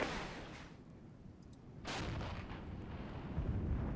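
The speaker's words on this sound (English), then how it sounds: "Now let's fill this entire area with artillery." Artillery barrage in the war game Regiments: a dense stream of booming shell impacts and rumbling blasts overlapping without pause, with one sharp crack near the middle and the roar swelling toward the end.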